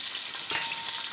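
Soaked spices hitting hot oil in a pan while cooking ghee rice give a brief, loud sizzling burst over a steady background of frying hiss.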